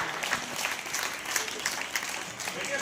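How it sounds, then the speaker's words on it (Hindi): A crowd at a school event claps steadily as a guest walks onto the stage, with sustained applause filling the hall while someone speaks over it on a microphone. "तालियों में कंजूसाई नहीं जब तक मंच पे आए।"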